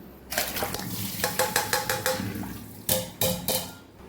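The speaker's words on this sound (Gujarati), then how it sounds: "આને હવે કાણાવાળા વાસણની અંદર કાઢી અને આપણે નિતારી લેશું" Thick-chopped, water-washed cabbage tipped into a colander to drain, with a run of close, clattery splashes and drips coming in bursts over a few seconds.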